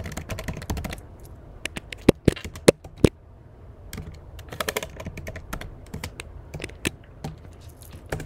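Fingers type on a computer keyboard up close, a quick irregular run of clicks with a few louder keystrokes standing out.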